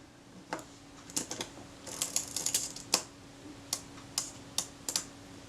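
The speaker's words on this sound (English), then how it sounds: "wind the film advance and the shutter blades open and close" Small mechanical clicks and ratcheting snaps come in quick irregular bursts, close and fairly quiet, as a corroded Kodak Retina IIa's film advance is wound and its shutter released.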